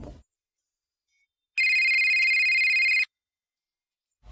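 A telephone ringback tone purrs steadily for about a second and a half during an outgoing call, a single loud continuous burst in otherwise near silence.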